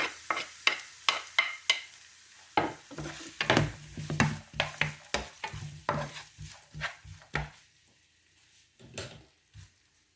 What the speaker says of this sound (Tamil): இப்போ நாங்கள் வெங்காயத்தையும் பச்சை மிளகாயும் இப்போ போடுவேன்.